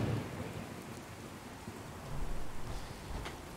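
Steady rain hisses across the landscape in the video game Fallout 4, a dense, continuous wash of falling water with a slight swell in loudness partway through, heard alone without talk.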